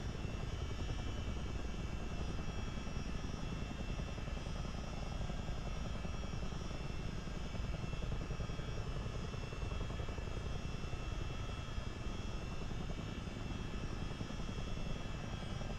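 A helicopter add-on in Microsoft Flight Simulator 2024 makes a continuous, steady rotor and engine drone that fills the whole stretch without letup or talk.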